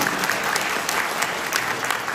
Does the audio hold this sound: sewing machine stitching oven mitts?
no